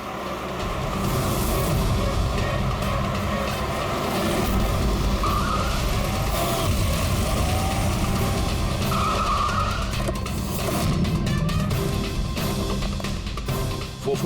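A car's tires squeal in a long, loud, sustained skid with engine roar underneath, a continuous screech lasting many seconds during a police drama chase scene.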